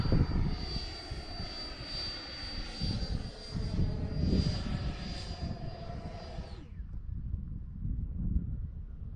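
A 90mm electric ducted fan radio-controlled Valkyrie jet, cartoon edition, taking off from a runway in a crosswind; a loud, steady high-pitched fan whine with rumbling wind buffet, the whine cutting off abruptly as it moves away.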